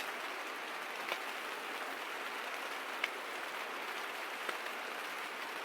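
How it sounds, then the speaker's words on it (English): Steady, dense patter of heavy rain drumming on a tent overhead while ATV camping, constant throughout with a few sharper drops standing out. "It's been raining pretty hard for,"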